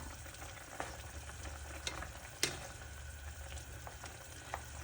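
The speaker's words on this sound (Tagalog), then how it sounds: "Tingnan na natin ang kumukulo-kulo na lunch natin for today." A pot of lunch stew with squash bubbles and simmers steadily, a soft continuous bubbling hiss with occasional small pops and clinks, faint and close, with no talking.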